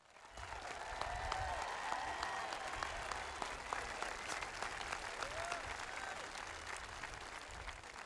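An audience at the 2021 Dakota High School commencement applauds summa cum laude graduates, sustained crowd clapping that swells after a second and holds steady, with scattered whoops and faint voices beneath.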